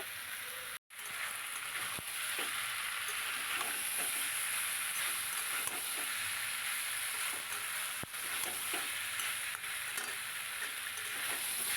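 Minced chicken with potato and papaya fries in a pan with a loud, continuous close sizzle, occasional stirring clicks, and no talking.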